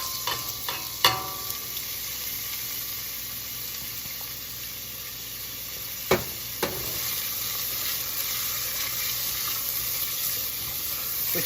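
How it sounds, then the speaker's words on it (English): Celery, carrots and onions frying in shimmering oil, a steady soft sizzle running throughout with a few sharp clinks of utensils against the pan, no talking. "our oil is getting shimmery, and now it will be time to add our celery,"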